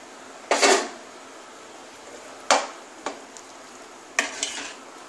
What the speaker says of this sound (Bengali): আলু ফুলকপি সব দিয়ে দিচ্ছি,